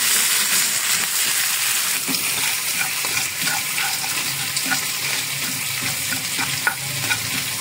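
Chicken karahi fries in a pan during bhunai, making a constant wet sizzle with the rough scraping of regular stirring close by.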